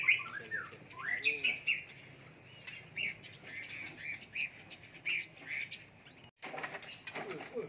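A white-rumped shama sings in a quiet spot in an alley, giving a series of bright, whistled phrases and short chirps at moderate distance, with gaps between phrases and faint background noise.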